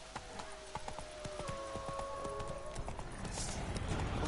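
Hooves clip-clop in a steady rhythm as a horse trots in The Witcher 3, fairly quiet, under faint game music and ambient sound.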